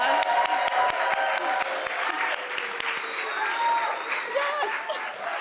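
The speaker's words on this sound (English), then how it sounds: "And just give them a huge round of applause." An audience at a city mayor's office reception applauds office staff with sustained, dense clapping that stays fairly loud for several seconds, with crowd murmur underneath.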